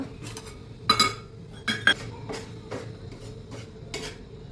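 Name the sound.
adding sugar to shira in pan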